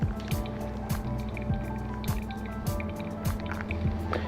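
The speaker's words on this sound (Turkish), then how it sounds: "yavaş bir şekilde su ilave edersiniz kahveniz daha yavaş demleniyor" Water poured slowly over ground coffee for a Japanese iced brew, a close, steady trickle and splash with soft drips and bubbling throughout, no talking.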